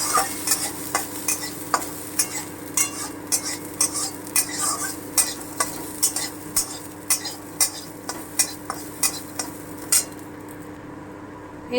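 Atap rice dry-frying in a pan while being stirred steadily, giving a regular series of close scraping strokes about once a second over a faint sizzle, with no talk.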